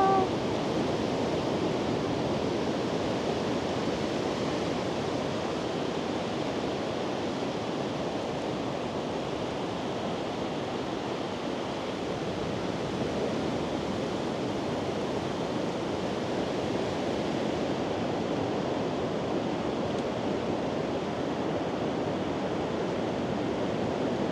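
Steady, broad wash of ocean surf at Lamane Beach rolls on without a break, loud and close, with wind mixed in and no voices.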